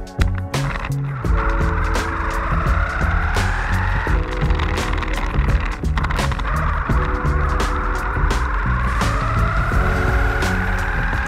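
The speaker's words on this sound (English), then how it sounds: "the noise from that metal gear sounded amazing as hoped" An RC car built with carbon and aluminum parts and a metal gear drives on the ground, its motor whine sweeping up repeatedly over sharp clicks and knocks, loud and close, with no voices.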